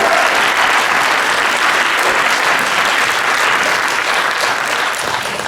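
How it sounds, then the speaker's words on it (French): Theater audience applauding throughout a live comedy show, a dense, steady wash of many hands clapping at close range, holding loud for the whole stretch and easing slightly at the end. "peut-être on peut applaudir"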